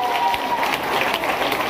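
A church congregation breaks into applause during a French-language service, loud crowded clapping and cheering with voices mixed in, short and continuous.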